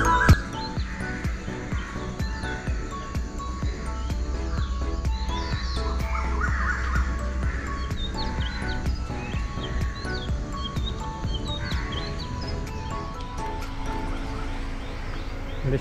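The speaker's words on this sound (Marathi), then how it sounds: "पक्ष्यांचा कसा आवाज येतोय।" Dawn ambience near Poladpur with many birds chirping and calling steadily throughout, mixed with insect or cricket trills over a constant low rumble.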